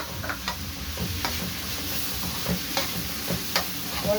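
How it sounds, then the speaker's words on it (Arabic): Liver being sautéed with onions in a pan, a steady soft sizzle broken by scattered stirring clicks and scrapes, fairly quiet and close, with no voices. "بص انا بشوح الكبده ازاي اهي"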